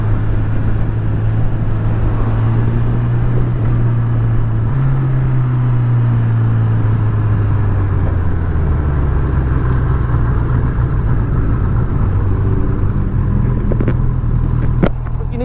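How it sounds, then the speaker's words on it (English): A motorcycle engine with a race exhaust pipe fitted runs steadily and loudly, its low drone rising in pitch partway through as it revs, heard alone without talk. "I might have even added the race termi pipe to it. Let's get that little bit of sound going on."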